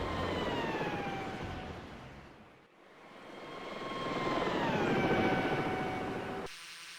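Helicopter landing on a base in a video game, a steady rotor and engine drone with a whining tone that fades, dips briefly, then swells louder again before cutting off.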